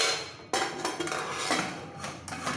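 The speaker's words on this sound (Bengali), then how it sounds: "এবার লিডটা দিয়ে দেবো মিডিয়াম ফ্লেমে রেখে" A metal lid is set onto a pressure cooker holding pea-and-potato pulao over a medium flame: a sharp clink, then further scraping metallic knocks as it is fitted in place, close and clear.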